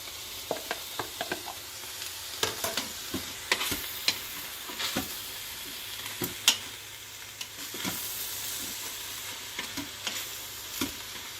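Mushrooms, zucchini and green pepper sizzling in an Instant Pot for meat sauce, a low steady frying hiss punctuated by frequent sharp scrapes and knocks of stirring, close and without talking.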